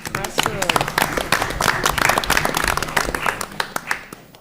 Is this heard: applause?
yes